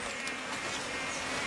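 Bees buzz around their hive in a small tree in Hawaii, a faint continuous hum with soft swells as insects pass close, heard outdoors with no talking.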